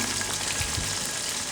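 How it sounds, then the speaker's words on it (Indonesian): Chicken pieces for Kung Pao fry in hot oil while being stirred, a dense, steady sizzle with a couple of soft low knocks from the utensil, close and continuous with no talking. "Pastikan minyaknya udah panas. Ini kita masukin aja ayamnya. Kita aduk-aduk kayak gini"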